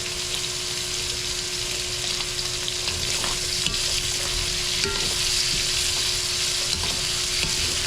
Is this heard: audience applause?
no